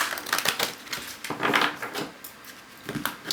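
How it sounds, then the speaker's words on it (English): Large, stiff tarot cards being shuffled by hand, a quiet run of close papery riffles and soft flicking bursts coming in short uneven clusters with small pauses between them. "One more shuffle."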